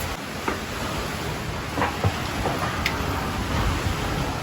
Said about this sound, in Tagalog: Nabutan tayo ng ulan dito mga para. Ang lakas ng ulan.